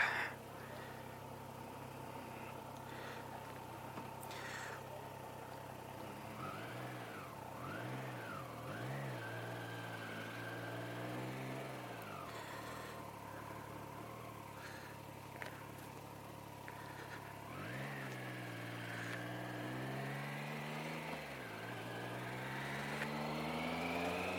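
A Trident motorcycle engine on its first ride hums steadily, with several clear revs rising and falling as gears change, heard from the rider's position under wind noise and without speech.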